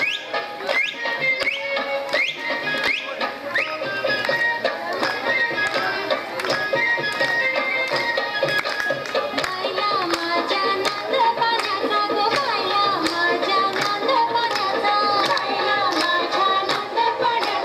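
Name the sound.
group clapping hands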